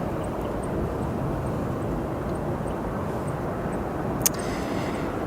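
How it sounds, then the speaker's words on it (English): An Aer Lingus Airbus A330 from Dublin rumbles as a steady, distant broadband roar at O'Hare airport, holding even throughout with one brief click partway through. "On your screens now, the Aer Lingus A330 from Dublin"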